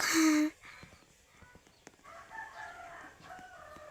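A brief loud rooster crow at the start of video game audio, then a quiet background with scattered faint clucks and clatter.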